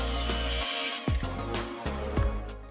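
Steady whine of a power saw cutting a wooden desk shelf to size, with the pitch dipping sharply a few times as the blade bites, loud and close.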